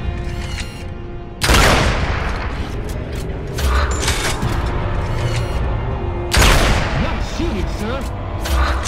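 Gunfire and explosive booms in the Gears of War 2 video game, two loud heavy blasts with rattling weapon fire and mechanical clatter between them, close and dense, with voices shouting over the action.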